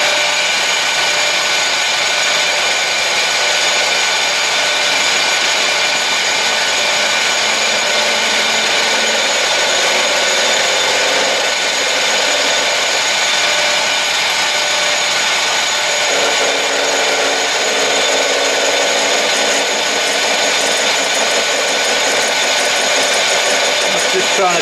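A wood lathe spins a pen blank while a skew chisel smooths off tooling marks, giving a steady, continuous whirring scrape with shifting tone, heard up close throughout.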